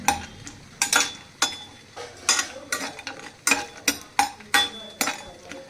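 Almonds roasting in ghee in a kadhai while being stirred, close-up rattling and scraping strokes in an irregular rhythm of roughly one to two per second, each a short clattering burst over a faint background.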